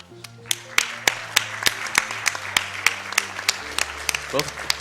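Scattered applause from a small group at the Awesome Games Done Quick 2016 speedrunning event, sharp individual claps at an uneven rhythm, heard over steady background music and some talk.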